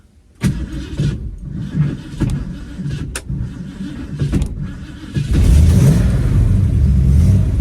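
A 1971 Ford Mustang coupe with a 302 V8 and automatic transmission is cranked over with several clicks, then fires up and settles into a steady, rumbling idle close by.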